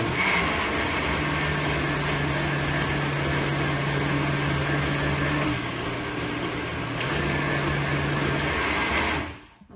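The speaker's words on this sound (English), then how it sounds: "A blender, we don't want to blend for too long because we don't want to burn our blender" A kitchen blender chops fruit for a sorrel cake, a steady loud motor whir running for about nine seconds with a slight pitch change midway before cutting off at the end.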